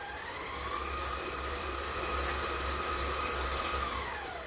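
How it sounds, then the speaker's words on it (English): Electric stand mixer creaming butter and sugar, a steady whirring motor drone with a constant broadband hiss that holds evenly throughout, close and fairly loud with no voices. "Now that I've mixed it a little bit, I'm going to stop my machine"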